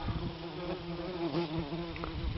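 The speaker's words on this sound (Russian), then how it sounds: "Вон оса тут залетела." A wasp buzzes steadily and close by beside an opened bumblebee nest, its drone wavering slightly in pitch without a break and with no voices over it.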